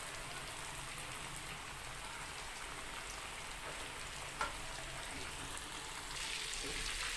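Chicken hot wings deep frying in hot oil for a KFC-style recipe, giving a steady, dense crackling sizzle that runs throughout with no talking.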